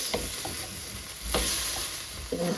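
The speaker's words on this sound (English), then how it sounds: "Let's give them a stir." A utensil stirs vegetables in a hot stir-fry pan, a few distinct scraping strokes rising over a constant bright sizzle, close and fairly loud with no talking.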